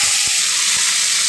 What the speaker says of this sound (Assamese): পিঁয়াজটো অলপ ভাজি ল'ম।